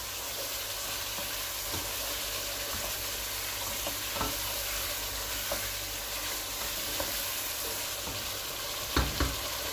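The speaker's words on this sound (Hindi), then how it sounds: "जीरा डाल के 2 मिनट भूनेंगे" Cumin seeds frying in a pan for a chicken shorba gravy, a faint continuous sizzle with occasional soft stirring taps and a sharper clatter near the end, with no voices.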